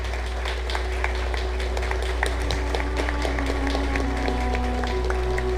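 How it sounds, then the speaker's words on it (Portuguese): A church congregation claps along at moderate distance, with scattered, fairly steady hand claps over a constant low hum of the room's sound system. "Vamos aplaudir ele bem forte,"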